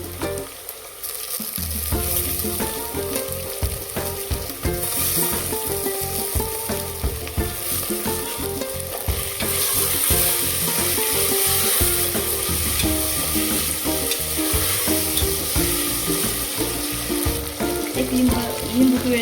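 Tomatoes added to a pan and frying with peanuts for khichdi, a loud continuous sizzle close up with repeated stirring scrapes throughout.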